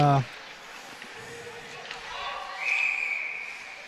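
During the third period of a varsity boys ice hockey game, Darien against Greenwich, a referee's whistle sounds in a short sharp blast at the start and again about halfway through, under a commentator's talk and arena noise.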